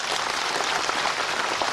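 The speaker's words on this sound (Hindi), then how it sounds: "जोरदार से एक बार ताली बजा देंगे।" Audience applause at an ABA Silver Jubilee event, dense and continuous clapping from a crowd, steady and fairly loud throughout.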